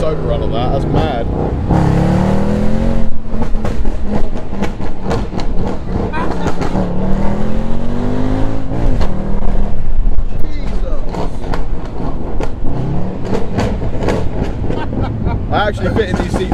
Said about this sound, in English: that overrun is absolutely unreal